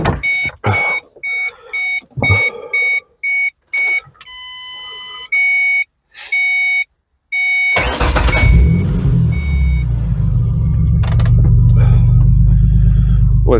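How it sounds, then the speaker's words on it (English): A 2005 Ford Mustang V6 cranks and fires, then settles into a steady, loud idle after a stretch of beeping chimes and clicks. "Let's start the car, turn on the AC and measure how cold does it blow."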